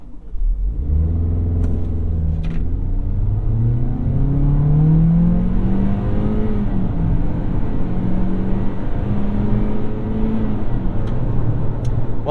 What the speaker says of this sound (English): Let's stop and do a little bit of an acceleration and see how long it takes to get to 60.